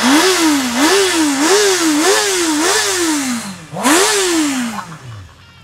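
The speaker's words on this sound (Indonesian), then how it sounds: "dengerin suara mesinnya dong" Honda CB650R E-Clutch four-cylinder motorcycle revving from idle in several quick, rising-and-falling blips, then one longer rev that fades back down, loud and close with no talking.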